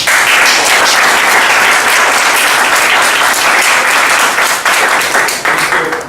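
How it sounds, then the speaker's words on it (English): Loud, dense applause from a Toastmasters meeting audience, steady and sustained for several seconds before beginning to thin out at the end. "will you please put your hands together and applaud for Mr. Prashant for such a noble thing he did"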